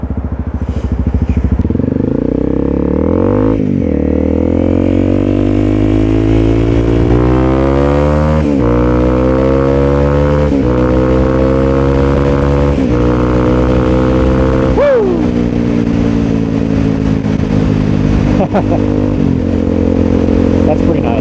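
Honda CRF250L motorcycle accelerating on a road, its engine note climbing through repeated rising sweeps with gear shifts, loud and close throughout, with a voice talking over it.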